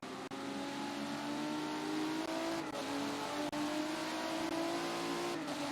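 Race car engines in a sim racing game at Watkins Glen, a steady, loud, high-pitched whine of several cars holding speed together, the pitch shifting slightly with brief gear changes.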